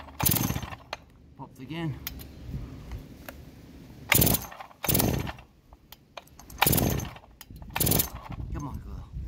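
A Farmertec G366 chainsaw is pulled over on choke several times, each loud rasping starter pull coming in separate bursts with short gaps between, while someone talks in between the pulls.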